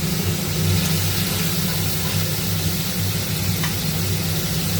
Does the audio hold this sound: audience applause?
no